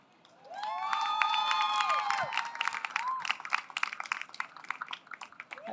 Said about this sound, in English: let's all give a warm round of applause and welcome Educology.